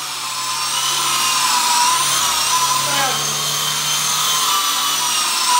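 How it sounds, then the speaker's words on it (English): A Sky Rover Exploiter S toy helicopter flies indoors in a house, its small rotors and motor making a steady, loud, buzzing whine close by that wavers slightly in pitch as it hovers and moves. "this is an 8-year-old boy flying this helicopter in a house"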